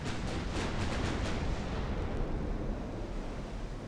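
A twelve-gun battleship broadside in Ultimate Admiral Dreadnoughts: a quick ragged volley of heavy booms in the first second and a half, then a long rumbling roar that slowly fades, fairly distant and without speech.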